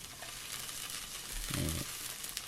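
Steady sizzling of fish frying in a nonstick pan, a constant crackling hiss close by, with a soft scrape or shuffle partway through.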